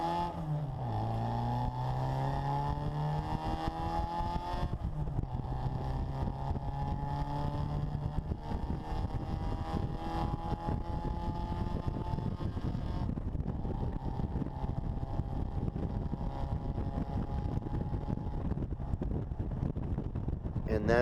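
Bugeye Sprite with new SU carburetors and K&N air filters pulling hard from a standstill to 70 mph, engine note rising steadily with a couple of gear shifts near 5,500 rpm, heard from inside with constant wind and road roar.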